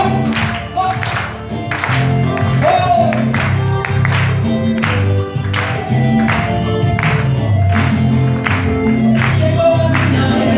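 A congregation claps in steady rhythm along to a worship song, with regular sharp claps over loud music and singing running the whole time.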